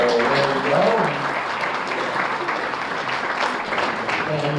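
Sustained audience applause at a high school basketball association banquet, a dense, loud wash of clapping that holds steady throughout with a faint murmur of voices mixed in.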